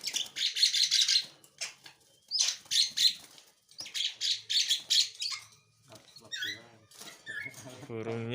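A tame jalak starling gives bursts of bright, raspy chirps and whistles in repeated clusters, close and fairly loud, followed by squeaky calls and a buzzy, voice-like warble at the end.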